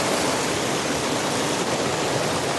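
Stream water pours through a pipe into a fish hatchery, a steady, close, dense rush of splashing flow that stays even from start to finish.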